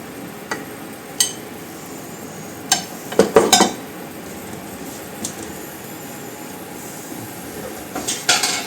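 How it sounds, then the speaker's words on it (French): Poultry meatballs going into a pan of cream sauce, with sparse clinks and knocks of utensils and cookware, a cluster of sharper clatters near the middle and more toward the end, over quiet background. "Et là, on va y rajouter les boulettes."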